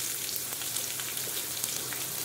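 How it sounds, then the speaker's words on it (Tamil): Onion frying in hot oil with cumin for a mushroom curry leaves fry, giving a steady, close sizzle with crackling pops throughout and no talk. "இப்போ ஆனியன் போட்டு"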